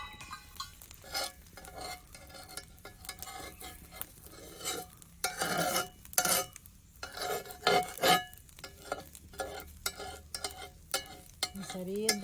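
Dosa batter sizzling and frying on a cast iron pan, with scraping and clinking of a utensil against the metal in uneven bursts, close and moderately loud, no talk.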